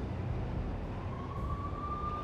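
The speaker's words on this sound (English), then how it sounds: "The NYPD was closing in. I could hear the sirens." Police sirens in the Max Payne video game sound faint and distant: a single thin wail rises out of a low urban rumble partway through.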